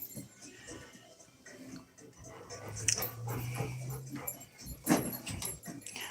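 A dog whimpers and pants nearby, soft whines and breathy huffs rising and falling over several seconds, with faint background noise.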